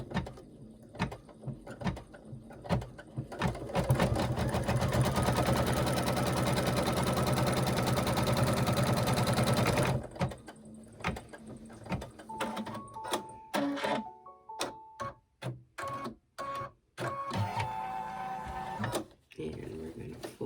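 Sewing machine stitching table runner fabric pieces, a loud steady run of stitching for several seconds, then short bursts and handling clatter, with a voice talking throughout.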